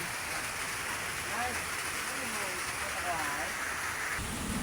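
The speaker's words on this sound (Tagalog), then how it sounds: "Ang lakas ng ulan dito." Steady, dense rain pours down with a constant hiss; low rumbles beneath are distant thunder, and a voice speaks briefly.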